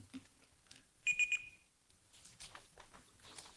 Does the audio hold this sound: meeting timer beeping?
yes